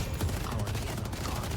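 A turret in the video game Deadlock fires a dense, continuous burst of rapid shots, loud and close throughout.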